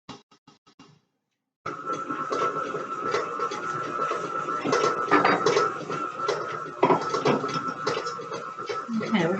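A stand mixer creams 8 ounces of butter with sugar for a coconut cake, giving a steady, continuous whirring drone with scraping and clatter on top. It starts after a brief silence and runs close and loud to the end.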